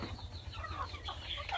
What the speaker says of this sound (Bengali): এটা হলো আমাদের মোটামুটি 50টা মুরগি আছে আর 2টা রাতা আছে